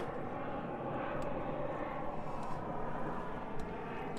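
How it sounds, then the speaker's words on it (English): A loud airplane passes overhead as a steady, broad engine roar that holds strong for the whole stretch, with no talk over it. "while this very loud plane passes overhead"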